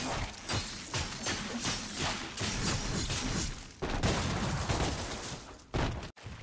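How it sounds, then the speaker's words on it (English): Rapid pistol fire from the twin guns Ebony and Ivory in DmC: Devil May Cry, held for the Ricochet move, a dense stream of shots mixed with combat impacts and whooshes, loud and busy. "Here we see the Ricochet, which is a hold move with your Ebony and Ivory"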